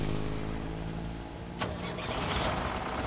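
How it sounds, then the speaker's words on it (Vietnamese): An old car's engine cranks and catches, a sharp start transient followed by a rough, rumbling idle, recorded fairly quietly with a steady low hum underneath. "Nổ máy Tám ơi."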